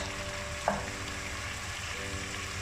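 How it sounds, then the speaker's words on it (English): Tomatoes stir-fried in an open pan over a medium flame for a chicken yoghurt curry, a quiet steady sizzle with a single spatula tap near the start. "Let us just stir fry for about 1 minute on medium flame without covering our pan."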